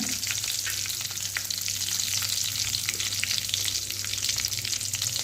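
Green chilli and capsicum (bell pepper) fry in oil in a pan for bachelor-style sambar, giving a steady, close, continuous sizzle with faint stirring scrapes throughout and no talking.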